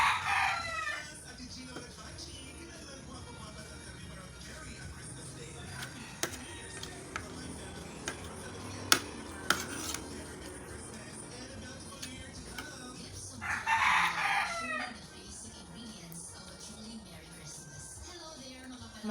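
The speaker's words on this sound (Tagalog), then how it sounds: "May manok ka niya." A rooster crows twice from a short distance in an outdoor yard, with faint ticking, clucks and quiet background noise between the calls.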